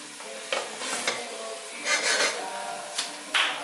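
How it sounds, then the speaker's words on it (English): Onion and garlic are sautéed in a pan for traditional Greek pastitsio, giving a steady, close sizzle while a utensil stirs and scrapes them in several distinct strokes. "let's do the saute the onion and the garlic first to soften it up"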